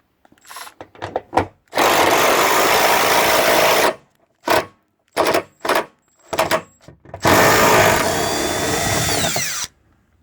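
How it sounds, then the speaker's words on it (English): A Milwaukee power drill whirs in several bursts on screws while a tow hitch is installed on a 2012 Honda Accord, two long runs and a string of short stuttering pulses between them, close and loud. "I got the power tool on my Milwaukee."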